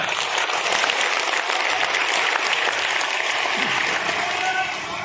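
A large crowd at a company celebration claps loudly and continuously for the Indian Army, a dense, sustained wall of applause throughout.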